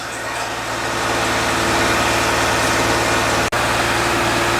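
A 2013 Ram 1500 4x4 pickup's 3.6-litre engine idles at about 600 RPM at operating temperature, giving a steady, close, continuous low hum with a rhythmic pulse and one brief dropout near the end.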